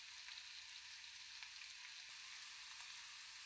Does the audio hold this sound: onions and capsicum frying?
yes